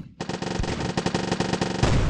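Cannons open fire on a tank in the tower defense game Tactic Defense: a loud, dense, rapid volley of gunfire-like blasts rattles on without a break for about two seconds.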